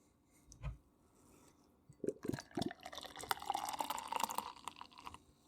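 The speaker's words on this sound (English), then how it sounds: "Get a little halvesy pour there, eh?" Yuzu beer from Amarok Brewing pours into a glass with a gurgling, fizzing stream that swells and rises in pitch as the glass fills, close and without talk.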